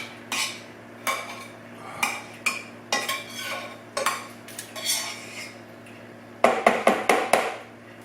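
A potato masher thumps and squishes through blueberries in a container during wine making, a series of separate wet mashing strokes with metallic clinks, ending in a quick burst of faster strokes.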